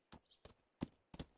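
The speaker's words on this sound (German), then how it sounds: "Pferdchen." Horse hooves clip-clop in the video game Rising World, four distinct, evenly spaced hoof strikes heard close and clear with no talking.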